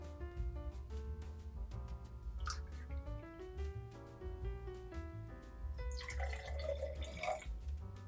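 Pomegranate juice trickles into a champagne flute, a faint, quiet pour with rising ringing tones as the glass fills, and a brief splashier gush near the end.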